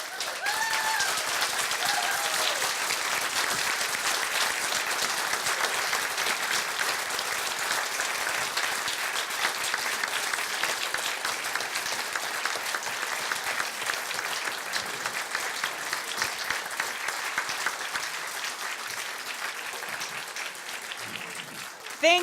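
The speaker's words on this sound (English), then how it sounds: "I would like to give a big round of applause" A crowd at a Maine congressional candidates forum applauds in a sustained, dense roar of clapping that holds steady and loud for over twenty seconds, with faint voices mixed in underneath.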